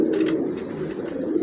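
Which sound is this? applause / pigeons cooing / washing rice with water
pigeons cooing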